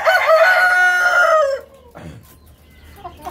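A BLRI Hilly rooster gives one loud, close crow lasting about a second and a half, followed by a few softer clucks.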